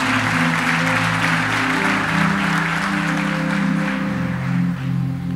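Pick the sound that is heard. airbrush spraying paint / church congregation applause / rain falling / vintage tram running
church congregation applause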